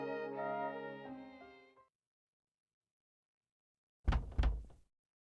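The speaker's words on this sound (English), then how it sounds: "I hear a knock on the door immediately after I return to my room." Two quick knocks on a wooden door in a video game, sharp and close, following a fading piano-like musical phrase and a stretch of silence.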